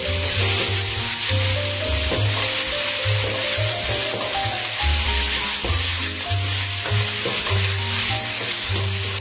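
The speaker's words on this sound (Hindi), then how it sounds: "और साथ ही ग्रीन अनियन का व्हाइट पार्ट, इसे भी हल्का सा सौटे करेंगे।" Green onion whites and chili sautéing in hot oil for prawn fried rice, a steady loud sizzle broken by repeated scraping stirs that run throughout.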